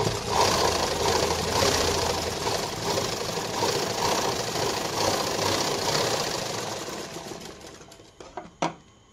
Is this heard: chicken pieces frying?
no